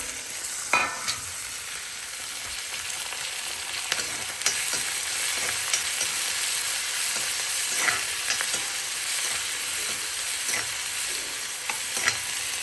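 Onions sizzle and crackle steadily in a hot pan, a dense close frying hiss with occasional sharper pops and faint stirring scrapes, no voices.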